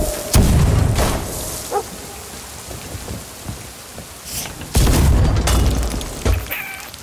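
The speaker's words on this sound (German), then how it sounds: "Also man kann mit den Kanonen auf jeden Fall diese Figuren da treffen." Cannons fire in the pirate video game Sea of Thieves, several deep, heavy booms spaced a few seconds apart over a rumbling, rain-like game background.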